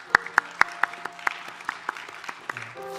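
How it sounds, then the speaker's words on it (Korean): A church congregation at a Sunday worship service claps in thanks. Sharp, loud claps land in a slow, regular rhythm over a soft bed of scattered clapping, and a sustained tone enters near the end. "우리의 예배를 받으신 하나님께 우리 감사의 박수를 올려드리겠습니다."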